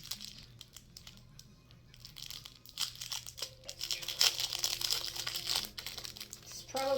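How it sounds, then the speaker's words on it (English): Crinkling and tearing of wrapping paper and plastic as a multiply wrapped Christmas gift is unwrapped indoors, close and uneven rustles that grow busier midway, with faint talk and household noise in the background. "Oh, how do I unwrap this?"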